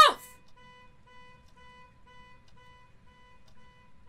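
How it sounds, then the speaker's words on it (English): A car alarm in the horror video game Phasmophobia gives a steady run of evenly spaced electronic beeps, fairly faint and continuous after a brief sharp noise at the start. "Oh, it's our car. It's our car that's beeping."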